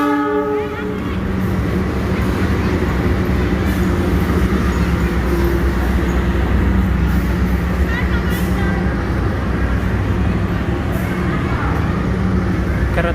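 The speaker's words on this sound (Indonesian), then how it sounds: "Keretaku datang pemirsa." The Arjonegoro train pulls into Surabaya Gubeng station with a loud, continuous rolling rumble and clatter of wheels on rails, a horn-like tone near the start, and voices talking over it.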